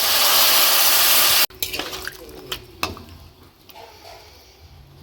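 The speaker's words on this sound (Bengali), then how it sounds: "দেবো একটু সামান্য জল" A small splash of water is poured into amla chutney cooking in a pan, a steady loud pour for about a second and a half, then soft clinks and bubbling afterward.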